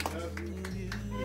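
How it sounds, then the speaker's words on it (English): A small group claps along at a singing telegram for an anniversary, a few soft rhythmic hand claps spaced evenly over a sustained tone of singing or music, fairly faint overall. "Let's get a love hand clap."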